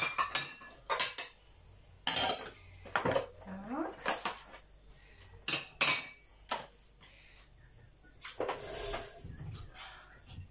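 Clinks and clatters of plates, dishes and cutlery being stacked and put away in irregular bursts, close by, with a person talking intermittently.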